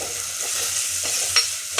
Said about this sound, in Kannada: ಇಷ್ಟನ್ನು ಹಾಕ್ಕೊಂಡು ಸ್ವಲ್ಪ ಫ್ರೈ ಮಾಡ್ಕೊಳ್ಳಿ ಚೆನ್ನಾಗಿ